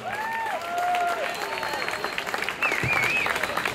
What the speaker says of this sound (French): Encore une fois, on applaudit Claude Michaud.